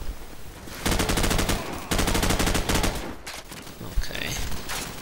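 Call of Duty 4 gameplay carries loud bursts of rapid automatic machine gun fire in two long sustained volleys, followed by scattered shots and game noise.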